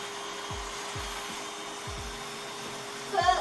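Steady whine of a rotary sanding drum sanding cosplay armor, with a few low thumps at intervals, ending in a brief rougher burst of sanding.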